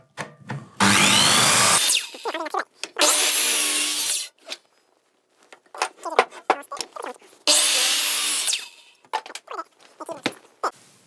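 A circular saw cuts timber for a tenon joint in loud whining bursts separated by pauses, with shorter scraping and knocking sounds of wood handling between cuts.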